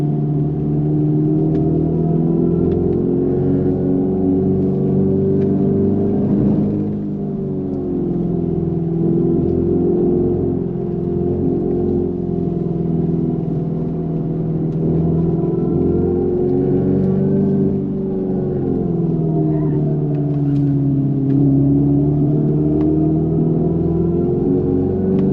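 The 2025 Dodge Charger Daytona Scat Pack with the Stage 2 setup under steady throttle on hot laps, giving a continuous electric drive whine and road roar heard from inside, the pitch gently rising and falling, with no talking.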